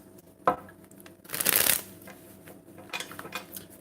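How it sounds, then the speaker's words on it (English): Tarot cards shuffled by hand for a reading: a sharp tap, then a dense burst of riffling, followed by softer card rustles and a few light flicks, close and fairly quiet with no talk. "I'm going to shuffle this 4 times."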